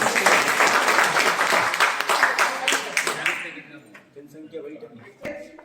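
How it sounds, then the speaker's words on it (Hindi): Participants at a village water-conservation training program in Rajasthan give hearty applause that fades after about three seconds, followed by quieter voices and movement in the room. "एक बार जोरदार तालियां आप सभी को।"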